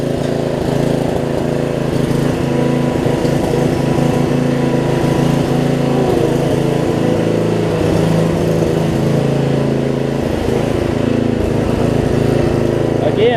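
A Murray riding mower engine with a sticky choke runs steadily and loudly up close, a constant droning putter throughout.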